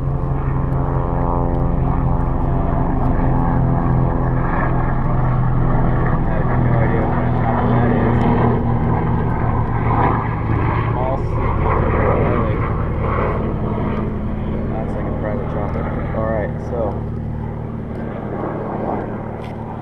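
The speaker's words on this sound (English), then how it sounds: "That's a big chopper too." A large helicopter passes overhead above a backyard cannabis garden, a loud, steady rotor and engine drone that fills the whole stretch without letting up.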